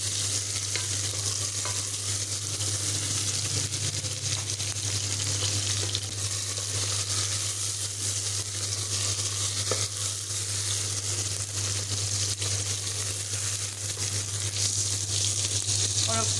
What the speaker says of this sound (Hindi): इसको 2 मिनट अच्छे से भूनती हूँ